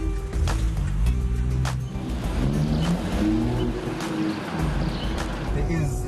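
A Gusheshe car's engine drones loud and steady as it drives, with low rumbling harmonics that rise and fall as it revs, and people talk over it throughout.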